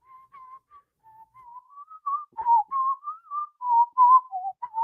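Someone whistles a wandering tune up close, starting soft with short notes and growing louder and more confident toward the end, with no talking.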